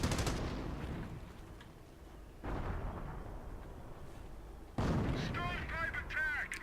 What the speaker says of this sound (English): So that was a little bit of a mortar war here going.